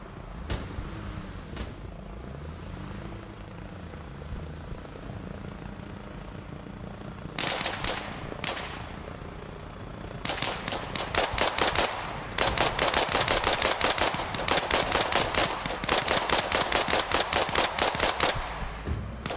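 Helicopter rotor drone and bursts of automatic gunfire in the military combat game ARMA Reforger, a low steady chopper hum with rapid loud volleys starting midway and repeating densely toward the end, no talk.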